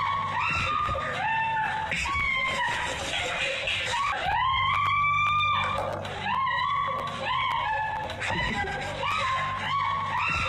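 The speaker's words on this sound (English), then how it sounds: "What's she screaming that damn loud for?" A woman screams loudly and repeatedly from a recording played back during a talk show, her long, wavering cries rising and falling over a steady background hum.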